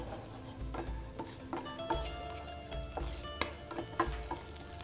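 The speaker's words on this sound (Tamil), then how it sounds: "இந்த மொச்சை நம்ம வேணுங்கிற அளவுக்கு லேசாக வதக்கிக்கலாம்." Field beans (mochai) are sautéed in a pan, a soft sizzle running underneath repeated scraping stir strokes and clinks of a utensil against metal, close and steady, with no voices.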